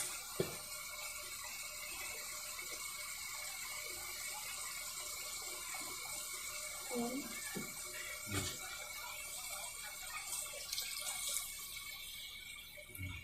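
Water runs steadily into a cooking pot of pork giniling in a home kitchen, a faint, continuous splashing stream lasting several seconds, with a few light clinks of utensils.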